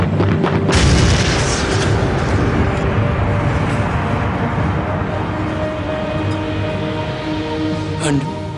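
A half-track loaded with ammunition explodes during the WWII retreat from Normandy: a sudden, loud boom that rolls into a long, heavy rumble and crackling roar filling the rest of the scene.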